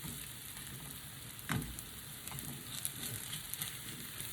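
Fried rice with peas and egg frying in a pan, a steady close sizzle that runs throughout with a brief stir-like clatter partway in, and no voices.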